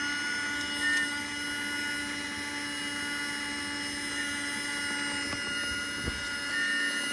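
A Paladone mini Numatic Henry desk vacuum sucking up crumbs, a steady high-pitched motor whine with a thin tonal hum, broken by a few brief clicks and rattles as bits are pulled in.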